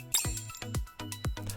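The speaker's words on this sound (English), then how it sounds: "the sound of a bell ringing comes from the counter up front" A bell rings at the shop counter in a romance video game, several bright chimes with quick decays that repeat in an even rhythm, clear and close with no speech.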